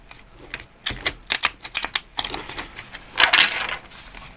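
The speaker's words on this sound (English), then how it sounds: "Okay, so I'm going to shuffle it." A deck of tarot cards is shuffled with a run of crisp, rapid riffling clicks and flicks, close and fairly loud, ending in a denser burst.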